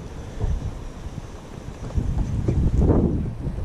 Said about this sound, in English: So wind is blowing extremely hard again today.